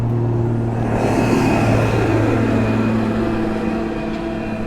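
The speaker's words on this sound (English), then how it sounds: "every so often this tractor keeps going by" A tractor drives past on a road in Ireland with a loud, steady engine rumble and droning hum that fades slightly toward the end. No one speaks.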